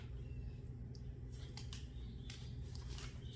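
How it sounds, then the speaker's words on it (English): Tape peels off a hand-lettered truck door sign in a few quick ripping bursts over a low steady background hum, close and faint, with no talk. "So now I'm going to take my tape off of this."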